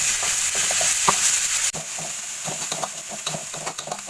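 Ground garlic and shallots sizzle in a pan, a steady close frying hiss broken by scraping stirs, with no talking over it.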